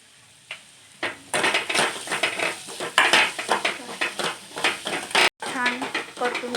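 Cluster bean bhaji seasoned with coriander powder and salt is sautéed and stirred in a pan. A spoon scrapes and clatters in uneven strokes over a soft sizzle, and a voice is briefly heard near the end.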